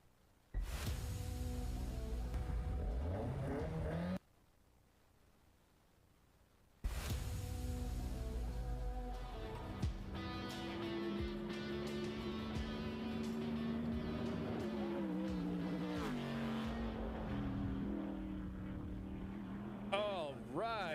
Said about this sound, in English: Those were car sounds from a mutual friend of ours.